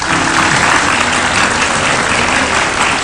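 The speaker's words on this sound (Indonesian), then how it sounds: "Oke, kasih tepuk tangan sekali lagi buat Eri." A studio audience on an Indonesian television talk show applauds for a guest, a steady, loud, even wash of many hands clapping that fills the whole moment without a break.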